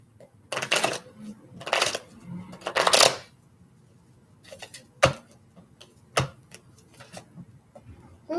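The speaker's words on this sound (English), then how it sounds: "Final shuffle." Tarot cards shuffled by hand in several quick riffling bursts, followed by sharper single taps and card snaps spaced apart, close and clear with no talking.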